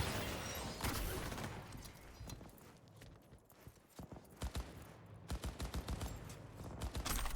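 Rapid bursts of gunfire in Cyberpunk 2077, sharp cracks in quick clusters at moderate distance, building into a steadier volley toward the end with a low rumble underneath.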